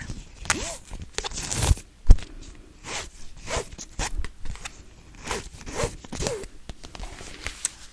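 A zipper on a Pokemon trading card binder case is drawn in several short, quick pulls, with soft handling rustles and a couple of sharp clicks between strokes.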